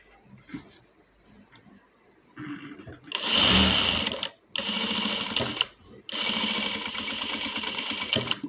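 A sewing machine stitches a cut work blouse in three loud bursts of rapid whirring, separated by short pauses, after a few quieter handling sounds.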